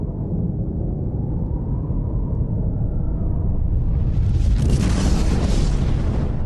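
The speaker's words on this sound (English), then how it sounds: "When a nuclear bomb explodes" A nuclear bomb detonation as a sound effect: a continuous deep rumble builds steadily and then breaks into a loud, broad roaring blast that sustains to the end, with no voices present.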